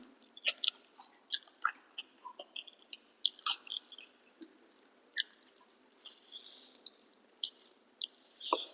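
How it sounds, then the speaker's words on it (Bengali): Close, quiet chewing of rice mixed with boiled dal, soft wet mouth clicks and smacks coming in irregular bursts, with faint bird calls in the background. "ডাল সিদ্ধ দিয়ে মাখি, মেখে খাই।"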